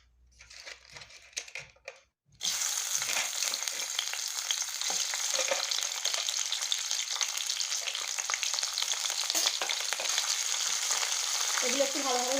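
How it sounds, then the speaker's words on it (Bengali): Crabs coated with salt and turmeric sizzle hard in hot mustard oil in a kadai, a dense steady crackle that bursts in after a quiet start and holds loud and close to the end. "আর কাঁকড়াগুলো এখন ভেজে নেব।"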